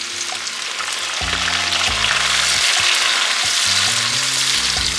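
Onions and tomatoes sauteing over medium heat in a pan for groundnut (peanut) soup, a steady loud sizzle and frying crackle with stirring scrapes and a low hum throughout, no talk.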